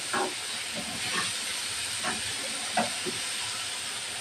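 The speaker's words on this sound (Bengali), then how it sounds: "এই তেলের ভিতরে দিয়ে দিব বেশ কয়েকখানি পেঁয়াজ কুচি" Chopped onions frying in hot oil in a pan, for a koi fish curry, give a steady, close broadband sizzle with faint clicks and stirring bumps throughout.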